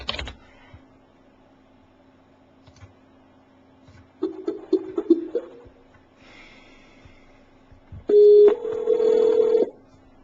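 Telephone dialing and call tones on a home phone line, with faint tapping keypresses followed by a loud steady tone burst near the end, and no talking.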